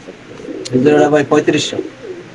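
Lahori pigeons cooing close by, a short soft burst of throaty rolling coos heard alone in a quiet space.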